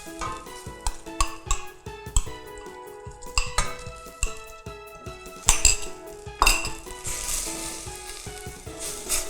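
Curry paste and coconut milk being stir-fried over low heat, with steady soft sizzling, repeated scraping and clinking of a metal utensil against the pan, and occasional louder bursts of frying, close up.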